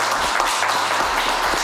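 A short burst of applause during a comedy interview, steady moderate clapping lasting under two seconds with no speech over it.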